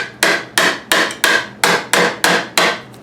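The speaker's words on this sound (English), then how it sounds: "use my chisel to get nice big chunks like that removed" A chisel struck with a hammer cuts wood from a guitar neck, eight sharp evenly spaced knocks ringing out clearly and alone, each decaying quickly.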